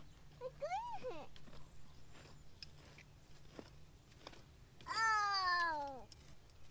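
A cat meows in a potato-harvest garden on a homestead, two rising and falling cries, the second louder and longer, with people talking nearby and a steady low hum underneath.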